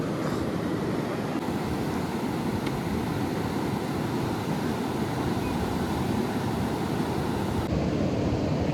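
Sea waves washing onto the seashore in the rainy season make a continuous, loud rushing roar that runs without pause through the whole stretch.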